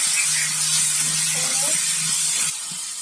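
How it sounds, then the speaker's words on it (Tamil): Tomatoes frying with onion and ginger garlic paste in a pan give off a steady, loud hiss of sizzling oil through the whole stretch, easing a little near the end, with no talking. "இதை நல்லா மசிய வதங்குற அளவுக்கு நல்லா வதக்கணும்"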